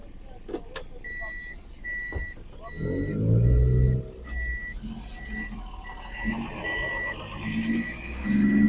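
A small car engine labours and revs while climbing a hill road, swelling in bursts, with a repeated electronic beep pattern and occasional voices nearby.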